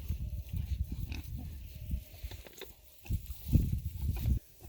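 Pigs grunt and snuffle steadily at close range in a field, with low rough bursts coming in clusters and a few brief pauses.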